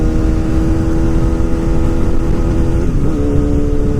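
An old liter-class motorcycle engine drones loudly and steadily while riding, with rushing wind noise and a brief dip and rise in engine pitch partway through.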